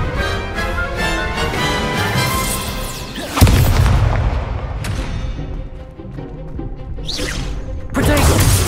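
A Confringo explosion spell cast in the video game Hogwarts Legacy bursts with a loud, heavy boom midway, its rumble decaying over a few seconds amid dense game effects and music, followed later by another surge.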